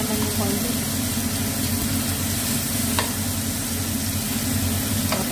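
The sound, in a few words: frying in oil, cooking tomato for sinigang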